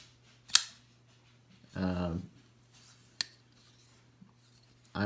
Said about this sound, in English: I always like sounds in knives, so I find that's a nice metallic clicking sound.